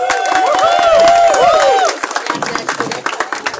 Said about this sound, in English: give yourselves a round of applause